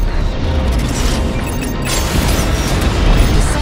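Explosion of a destroyed transport ship in the space combat game Strike Suit Zero, a loud, sustained rumbling boom with dense low-end roar that holds steady and swells slightly toward the end.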